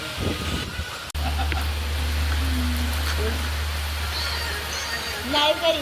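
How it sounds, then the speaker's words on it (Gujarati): Continuous hiss of wind-driven rain with a low steady rumble underneath and faint voices in the background. "પવન સાથે વરસાદ ચાલુ થઈ ગયો"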